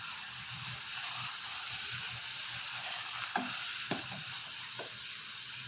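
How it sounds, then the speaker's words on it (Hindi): Grated carrot for gajar ka halwa roasts in a pan with a soft continuous sizzle, while a spoon scrapes and stirs a few times close by. "मैं इसको 5 मिनट के लिए इस तरह से भूनती रहूँगी"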